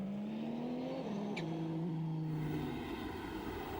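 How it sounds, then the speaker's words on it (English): Drivetrain and transmission whine from a 650-horsepower race car at speed, a steady tonal hum with stepped pitch shifts over constant loud road and wind roar, no engine dominating. "So the transmission noise."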